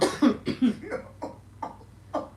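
A person coughs repeatedly in a fast, uneven string of about seven or eight dry bursts, close and fairly loud, with no talking.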